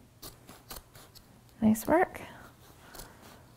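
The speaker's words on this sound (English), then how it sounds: "It's hard to cut upholstery fabric, isn't it?" Sharp scissors cut upholstery fabric in a few soft snips, followed by two louder crunching cuts through the thick material, close by with a voice speaking briefly.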